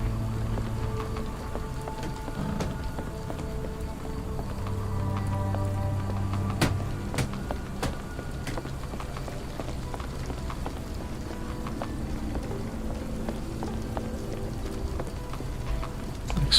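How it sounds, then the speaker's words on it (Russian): Rain falls steadily in the game Sherlock Holmes: The Awakened, a continuous patter of drops on surfaces with scattered louder splashes and a few faint footsteps beneath. "Дождливая, все такое. Атмосферно очень."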